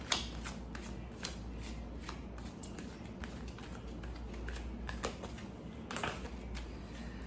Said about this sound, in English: Let's pull a card from that perspective.